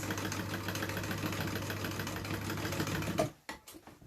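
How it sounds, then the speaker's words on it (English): A sewing machine runs a steady, rapid whirring hum while stitching a bag closed, close and continuous for about three seconds, then stops abruptly, leaving a few soft handling clicks. "I'm just going to stitch it closed with my machine and just do a little stitch straight across where that hole was"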